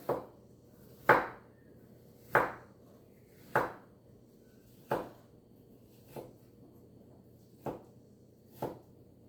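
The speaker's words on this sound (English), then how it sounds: "So I'm just going to finely chop all of these." A knife finely chops firm peaches on a cutting board, giving eight distinct, sharp thuds at an unhurried, slightly uneven pace, close and clear, with no speech.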